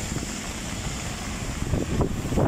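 Strong typhoon wind gusts buffet the microphone beside a highway, a steady roaring rush with low rumbling that swells louder toward the end.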